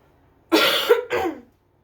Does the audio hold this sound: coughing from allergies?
yes